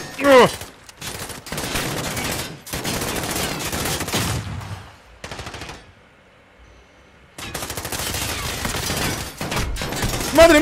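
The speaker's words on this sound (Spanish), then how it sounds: "Me dispara, me dispara, me dispara" Bursts of automatic gunfire and rapid shots from the Call of Duty Modern Warfare campaign, loud and dense in several long volleys with a brief lull midway, and a voice shouting over the shooting.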